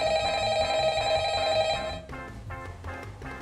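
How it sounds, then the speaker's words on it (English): A phone ringing in the video game Dialtown, a bright repeating electronic ring tone that cuts off partway and gives way to game music, loud and without talk. "Hold on, I'm getting a phone call."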